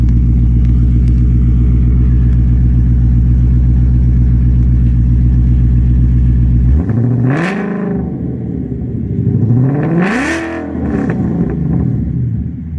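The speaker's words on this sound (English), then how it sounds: "Give her a little rev." An S197 Ford Shelby GT350 Mustang engine idles with a loud, steady rumble, then is revved twice, each rev rising sharply in pitch before falling back, with the second rev stronger.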